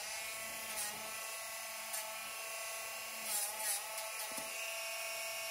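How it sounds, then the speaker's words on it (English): A Diamond G Dremel rotary tool fitted with a diamond grinding head runs as a steady, close, high-pitched whine while trimming a dog's nails, with slight pitch dips as it touches the nail and no talking. "This is my Diamond G Dremel with a diamond Dremel head."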